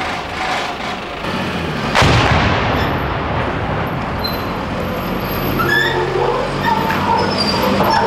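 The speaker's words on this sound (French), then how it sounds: "Ce sont les obus qui viennent d'où ?" Artillery shells burst in wartime Sarajevo, a sharp heavy explosion followed by a long rolling rumble and ongoing low booming noise in an outdoor setting.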